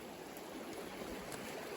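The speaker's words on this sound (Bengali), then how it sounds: "এই যে আমরা নদী পার হয়ে যাচ্ছি নাকি পাহাড়ি ঝর্ণা" Soft, steady rushing of a flowing mountain stream, faint and continuous like water running over stones.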